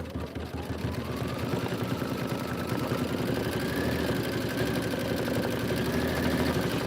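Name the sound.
embroidery sewing machine stitching tack down lines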